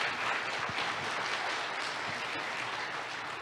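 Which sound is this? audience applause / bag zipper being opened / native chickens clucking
audience applause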